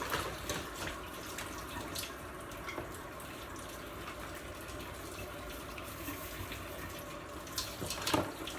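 Steady running tap water pours into a pot to cover food with salted water, a continuous even rush close by with faint clinks near the end.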